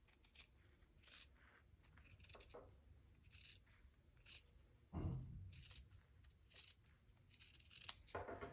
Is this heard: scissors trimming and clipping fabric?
yes